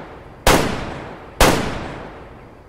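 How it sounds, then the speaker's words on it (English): Two loud shotgun blasts about a second apart, fired at pheasants in the hunting game Way of the Hunter, each a sharp crack trailing off into a long fading echo, with no voices. "So I apparently cannot shoot the shotgun"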